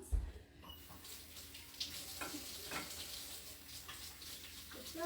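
Hot water running from a kitchen tap for hand washing, a steady broadband hiss and splash with a low thump at the start and faint clinks, continuous and fairly close.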